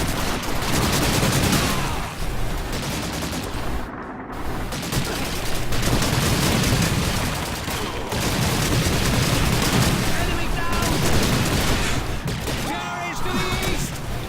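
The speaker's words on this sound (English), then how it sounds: "It's a 20mm cannon with HE rounds in a game." Heavy automatic cannon fire from a 20mm anti-aircraft gun loaded with high-explosive rounds in Call of Duty 2, a dense, continuous barrage of booming shots and crashing impacts that runs loud through the whole stretch, with voices mixed in.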